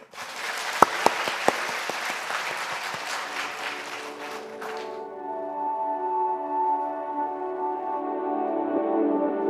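Church congregation applause at a Thanksgiving revival service, a few sharp claps then a dense burst that stops abruptly around midway, giving way to sustained music or video sound.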